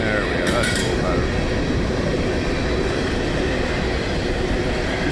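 A MILX General Electric Railcar Corporation unit train rolling past close by, a continuous heavy rumble of railcars with a brief higher squeal early on.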